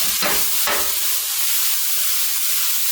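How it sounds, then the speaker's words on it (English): Mushrooms sizzling loudly in a hot frying pan used to brown ground beef for chili, a constant bright hiss with a couple of brief clattering stirs at the start. "Back to the frying pan where we brown the ground beef. We're gonna go in with mushrooms."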